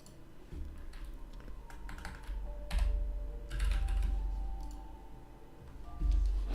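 Computer keyboard keys clatter in uneven bursts of typing and clicking, close and moderately quiet, with short pauses between flurries and a low background hum.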